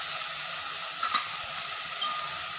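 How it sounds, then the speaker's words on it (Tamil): Vegetables for sambar, including beans, chow chow, carrot and broad beans, fry with tomato in a pan, giving a steady close sizzle with a couple of brief stirring scrapes. "அவரைக்காய் எல்லாத்தையும் சேர்த்து நல்லா கலந்து விட்டுக்கலாம்."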